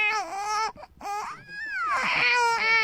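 Someone's voice imitates a newborn baby crying, with high, wavering wails in a few short bursts separated by brief breaths, close and clear.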